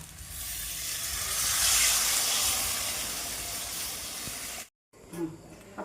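Loud hissing rush of boiled jackfruit water poured into a hot cooking pan, swelling then holding steady before cutting off abruptly, followed by a faint clink.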